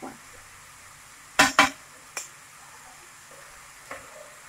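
A spoon stirs grated ginger and turmeric in a pan, making a couple of sharp clinks against the metal, then a softer scrape and a faint knock over a low, quiet sizzle.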